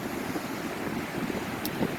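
Ocean waves and wind on a beach make a steady, moderate wash of surf with gusts buffeting the microphone and no voices.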